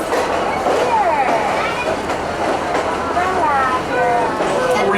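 A passenger train heads into Lansdale station, a continuous rolling rumble with faint squeals as an onboard announcement plays over the noise.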